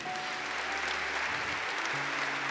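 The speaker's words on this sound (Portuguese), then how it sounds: "Pode aplaudir Jesus novamente?" Congregation in a church service applauds steadily, a soft, even patter of many hands clapping at a moderate distance, with a faint musical tone beneath.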